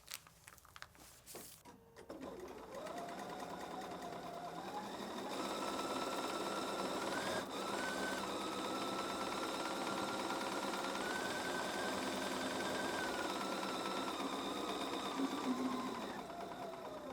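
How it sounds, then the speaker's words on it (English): A sewing machine stitches fabric for foundation paper piecing, starting with a few clicks before running steadily with a whirring, rhythmic hum whose pitch rises slightly midway, close and quiet, with no talking. "So I'm definitely going to sew from this side, sewing off the edge,"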